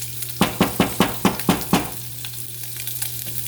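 Hot dog alfredo sizzling in a pan on the stove while a spoon stirs it in a quick run of about seven scrapes, then the frying settles into a steady, softer sizzle.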